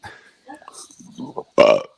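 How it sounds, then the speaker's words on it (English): A single loud, drawn-out burp breaks out near the end of a stretch of casual talk among family members during a Christmas gathering. "Somebody taking a bow for that burp?"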